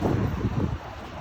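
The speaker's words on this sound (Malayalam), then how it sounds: "നല്ല കാറ്റുണ്ടല്ലേ" Strong outdoor wind buffets the microphone in a dense, low rumbling roar that gusts unevenly and then eases slightly toward the end.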